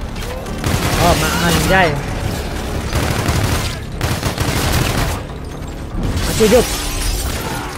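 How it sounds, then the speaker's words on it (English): Aegis guns firing at an enemy fleet in the shooter game Call of Duty: Infinite Warfare, rapid bursts of gunfire and booming impacts in a dense mix, with a player talking over the action. "Setup is using our Aegis guns to shoot down the fleet."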